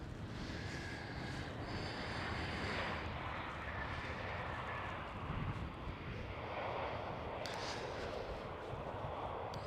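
A KLM Cityhopper Embraer E190 jet touches down roughly at Amsterdam Schiphol with a steady, fairly distant engine roar and rushing noise, a faint whine rising and fading above it.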